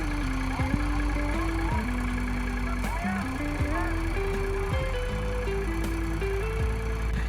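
A tractor engine idles in a potato field with a potato planting machine hitched behind it, producing a steady loud chugging drone with wavering pitch throughout.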